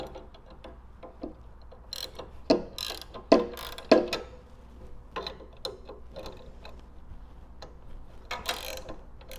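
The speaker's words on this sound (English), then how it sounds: "The next thing you'll want to do is loosen your tilt bolts." Tilt bolts on a screen printing press being loosened with a tool: irregular, close mechanical clicks and ratcheting knocks, a few louder cracks standing out over a low steady hum, with no talking.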